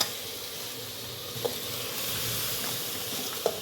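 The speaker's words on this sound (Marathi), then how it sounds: "आता ह्याच्यामध्ये टाकूयात आपण तांदूळ भिजवून ठेवलेले" Soaked rice goes into sizzling tomato biryani masala in a pan, a steady hot sizzle with a couple of soft stirring clinks and scrapes, close and continuous.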